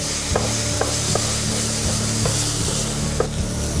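Lamb and onions frying together in a pan for shepherd's pie, with a steady close sizzle broken by repeated scraping stirs of a utensil against the pan.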